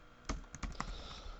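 Keys on a computer keyboard clatter in a short burst of three or four distinct clicks, close and fairly quiet against a faint room hum.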